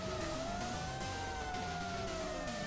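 A boss in the online action game Lost Ark lets out a loud, wailing fire-engine siren, its steady rising and falling tones running unbroken for the whole stretch over dense game noise.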